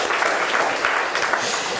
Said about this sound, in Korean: 박수 한번 하나님께 올려드리겠습니다.